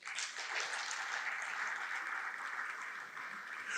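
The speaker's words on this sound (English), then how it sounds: "Just give me another applause for the song." Audience applause for a foundation's anthem at a memorial celebration, a soft, steady wash of many hands clapping, heard faint and somewhat distant throughout.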